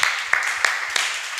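Short burst of clapping welcoming first-time young attendees, soldiers from an army air defense company and artillery battalion, at a Sunday worship service at Immanuel Church, with a few sharper claps standing out from a steady patter in a room.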